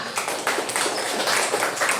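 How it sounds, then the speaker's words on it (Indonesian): Classroom of students clapping hands during an Indonesian teacher-training lesson, a dense continuous patter of many claps at moderate loudness filling the whole stretch. "Oke, tepuk tangan."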